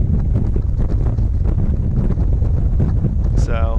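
Heavy wind roar buffets the microphone as a motorcycle cruises at highway speed on open roads in West Virginia and Maryland, loud and continuous throughout.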